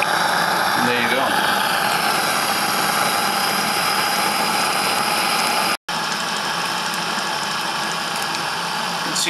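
A Saito model steam engine runs slowly in reverse with a steady, even mechanical churn and hiss, close and continuous apart from a brief dropout partway through.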